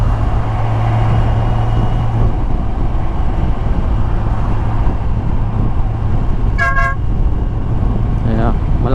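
Gold Runway GR 50X horn fitted to a Kawasaki Z900 SE motorcycle gives one sharp, loud honk near the end of the ride, with a second faint tone shortly after, over a steady engine and road rumble.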